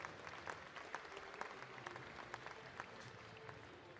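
Steady applause from the crowd at a track cycling velodrome in Milton, Canada, saluting Nations Cup medalists, with a dense wash of clapping and scattered sharper claps and cheers holding throughout.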